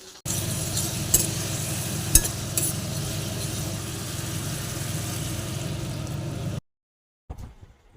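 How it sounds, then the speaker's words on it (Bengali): Katla fish pieces frying in a pan, a steady moderate sizzle with a few sharp clinks, then a sudden cutoff into silence and a brief faint noise. "মাছ ভাজলাম কাতলা মাছ"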